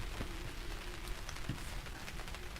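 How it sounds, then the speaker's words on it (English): Rain falls at night on an awning, making a soft, continuous patter that stays faint and even, with no voices. "Listen, it's raining."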